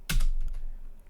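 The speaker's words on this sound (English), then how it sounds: "The command we're going to type curl" A single close keystroke on a computer keyboard lands with a crisp clack, followed by a softer rattle as the key settles. It is heard alone in a quiet room.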